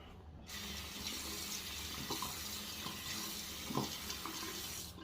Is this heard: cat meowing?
no